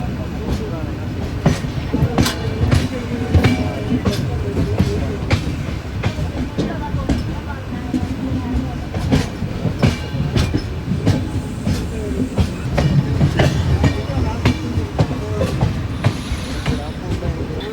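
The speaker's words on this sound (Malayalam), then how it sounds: "രണ്ട് ലൂപ്പ് ട്രാക്കൊക്കെ നമ്മൾ കയറി ഇറങ്ങിയാണ് ഇവിടെ ഏതാണ്ട് സ്റ്റേഷനിലേക്ക് കയറുന്നത്" The Cholan Express rolls over loop tracks into Mayiladuthurai station, a loud constant rumble heard from inside a general class coach, with wheel clatter and clicks over the points and faint squeals.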